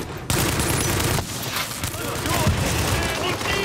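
Dense automatic gunfire from the video game The Division rattles in sustained bursts with heavy, loud reports, while a voice talks over the shooting.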